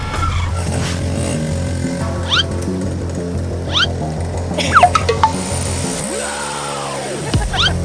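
An enduro dirt bike, freshly repaired after breaking down deep in the forest, idles with a steady low throb, with short throttle blips and chirps near the middle and a rising-then-falling rev toward the end.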